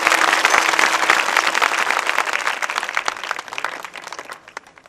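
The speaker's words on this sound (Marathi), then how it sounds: "सगळ्यांनी टाळी वाजवून त्याचं स्वागत केलं" Audience at a kirtan festival in Malegaon claps together in a broad, continuous burst of applause that stays loud, then thins and fades toward the end, with no talk over it.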